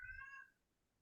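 A single short meow from a cat in a room, a faint high tonal cry lasting about half a second over low background hum, then near silence.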